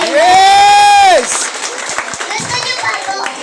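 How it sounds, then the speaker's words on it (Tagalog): A crowd of children and adults at an event claps after a high sustained voice, a brief burst of applause with scattered voices mixed in. "Medyo palakpak po muna kayo."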